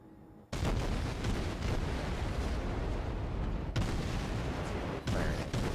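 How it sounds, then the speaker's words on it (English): Heavy, continuous gunfire from a destroyer's guns in the naval combat game World of Warships, loud and sustained with sharp fresh bursts near the start and again midway. "Firing at the Phoenix."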